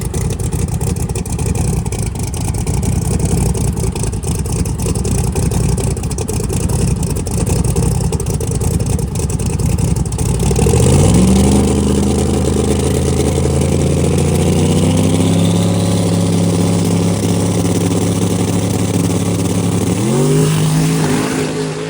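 A 5,000-horsepower Camaro drag car roars with loud, rough engine noise for about ten seconds, then launches and accelerates down the strip, rising through gears in a sustained high-revving climb, with a final shift near the end.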